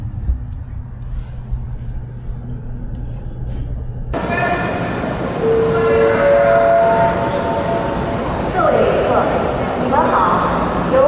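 A quiet rumble gives way to a sudden loud rush as a Chinese high-speed train sweeps past close by at Shapingba station, Chongqing, with a tonal horn-like whistle over the roar and voices nearby.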